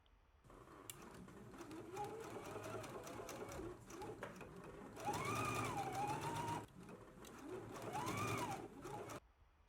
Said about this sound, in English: we can stitch using a 5/8 of an inch seam allowance